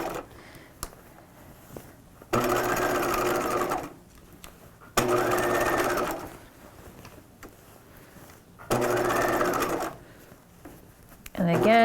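A home sewing machine runs in three loud, close bursts of a few seconds each while stitching the small, tight underarm of a 1950s shelf-bust dress. Quieter pauses with small handling noises separate the bursts.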